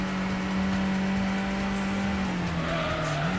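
A race car in the PS1 game Gran Turismo runs at full throttle, its engine drone holding steady and then dropping slightly, with tire squeal from sliding through quick corners, loud and continuous.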